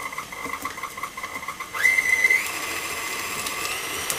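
Electric hand mixer switched to high speed, beating chocolate chip cookie dough with baking soda and salt, a steady whirring drone that rises sharply in pitch and loudness partway through and holds high.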